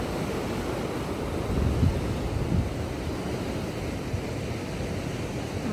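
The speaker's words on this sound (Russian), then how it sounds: "Очень сильные волны сегодня." Strong storm waves crash on a beach in Odessa. The surf roars steadily as a broad wash, mixed with gusty wind buffeting the microphone and one brief louder swell, and no voices are heard.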